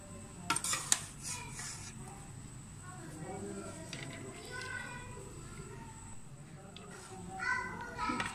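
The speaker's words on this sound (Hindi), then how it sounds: "अब हम इसको डिश आउट कर लेते हैं।" Egg fried rice scooped from a pan into a serving dish: a couple of clear metallic spoon-and-pot clinks up front, then softer scraping and tapping, with faint voices in the background.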